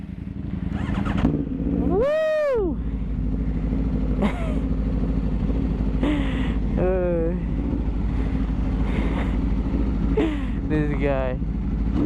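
An Aprilia RSV4 sport motorcycle fitted with an SC Projects titanium exhaust runs with a loud, close, steady engine drone, punctuated by several sharp rising-and-falling throttle blips, while a man briefly whoops.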